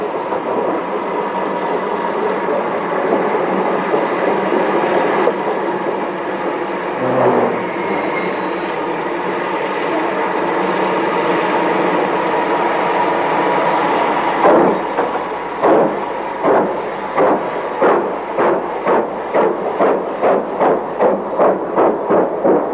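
An LMS Class 2 steam locomotive train on a British railway, steady rumbling rail noise building to a loud, rapid rhythmic clatter of wheels over joints in the second half, with no voices.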